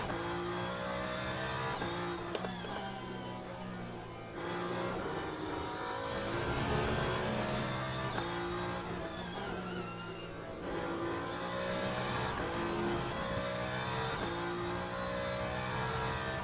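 A hypercar engine racing around Monza in Le Mans Ultimate, loud and close, with repeated rising revs through the gears and sharp dips at shifts and braking points.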